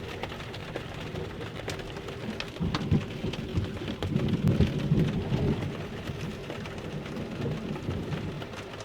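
Steady rain falls during a thunderstorm on a boat, with a low, rumbling roll of thunder swelling in the middle before easing back under the downpour.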